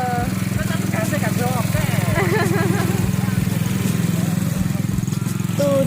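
An ATV engine runs steadily on a circuit track at a tourist park, a loud continuous motor drone throughout, with people talking and laughing over it.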